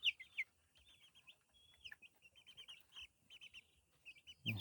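Young chicks being raised on a farm peep in high, repeated chirps, some in quick runs, close and fairly quiet, with a few louder calls at the start and end.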